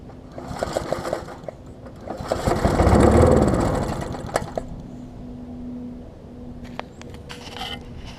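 Old Sycamore 22 inch lawn mower engine firing after a rope pull with starting fluid, sputtering into a rapid rattling run that swells loud, then dies back to faint ticking and clunks.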